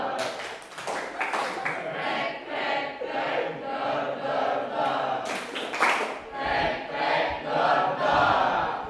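A class of students clapping along in a numbered clap pattern, bursts of claps in groups with voices talking among them.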